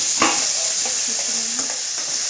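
Onions, tomatoes, carrots and green chillies stir-fry in a pan for Maggi masala noodles, a steady sizzle broken by a few scraping stirs of a spatula, close and moderately loud, with no speech.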